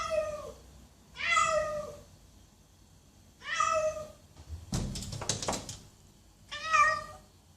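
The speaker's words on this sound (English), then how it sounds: "I did spend a further 7 hours watching cats meowing just to get that clip" Several cats meow in turn, four drawn-out, tonal calls spaced a second or two apart with quiet gaps between, plus a brief rattling noise partway through.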